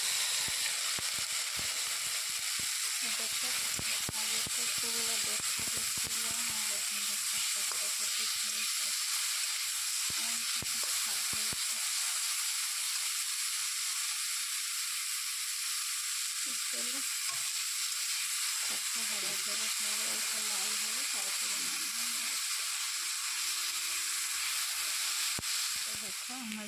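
Leafy greens (saag) cooking in a pan, giving a steady, close frying hiss and sizzle that runs unbroken throughout, with occasional stirring scrapes and faint voice-like sounds in the background.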